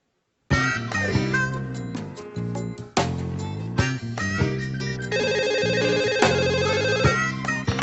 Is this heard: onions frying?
no